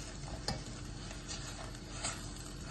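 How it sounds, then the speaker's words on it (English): Partly frozen chopped mlokhia stirred in a cooking pot, a steady close scraping and slushy churning with a sharper knock near the start and another toward the end. "Still have a bit of frozen from the mlokhia, so we have to mix that all together."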